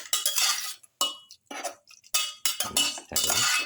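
Mutton pieces being mixed with salt in a metal pan, giving a run of close, bright scraping and clinking bursts from a utensil with brief pauses between strokes, and no talking.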